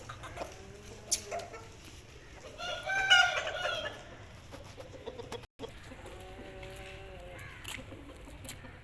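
An aseel fighting rooster, a one-time winner, crows once, fairly close, in the middle of a quiet farmyard stretch, with a few softer clucks before and after.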